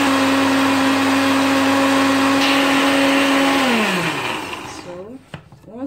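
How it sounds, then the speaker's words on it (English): Blender whirring as it blends parsley, lemon juice and water, a loud steady motor hum that runs for several seconds, then winds down and stops, leaving a few small knocks and rattles. "then blend."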